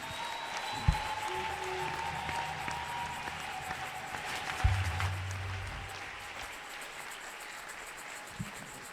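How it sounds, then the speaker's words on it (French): Congregation applauding for Jesus Christ during a Mass prayer service, a steady wash of clapping across the whole stretch at moderate, somewhat distant level, with a few louder thumps and faint tonal sounds. "Applaudis pour Jésus-Christ."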